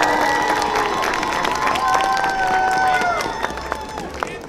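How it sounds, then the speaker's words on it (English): A crowd gathered for an autism awareness flag raising gives a round of applause for a school district official, clapping mixed with cheering and chatter, fairly loud and steady before tapering off. "Please give her a round of applause."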